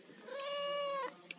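A cat eating fish gives one clear, drawn-out meow up close, then a couple of faint clicks.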